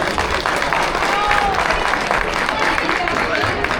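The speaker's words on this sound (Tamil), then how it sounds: "அதுக்கு ஒரு பாராட்டு கொடுத்தோம்னா" Audience applause for Arun, who joined in the parai drumming, at a stage pattimandram debate event; steady dense clapping from a large crowd fills the whole stretch.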